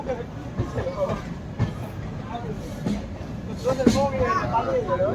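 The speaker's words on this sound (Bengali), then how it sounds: "আমাদের ট্রেন সবেমাত্র হাওড়া স্টেশন ছাড়লো।" Kulik Express train with new LHB coaches pulling out of Howrah station, heard from on board: steady rumbling wheel noise with repeated clicks of rail joints and a brief louder screech near the end.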